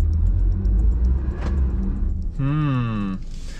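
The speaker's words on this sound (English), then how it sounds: "So, applied some throttle there, got a lot of spinning." A Mazda CX-50 sits stuck off-road with only its left rear tire touching the ground while the engine revs under throttle and the wheels spin. There's a steady rumble, then a rising whine near the end, with a voice briefly heard.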